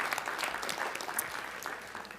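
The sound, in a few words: audience applause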